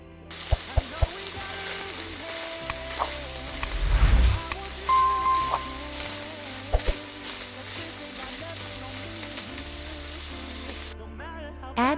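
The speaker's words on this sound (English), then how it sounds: "Add the garlic to the minced meat. Mix well and fry." Minced meat and garlic fry in a pan with a steady soft sizzle, broken by scattered clicks and scraping stirs, with one louder clatter partway through.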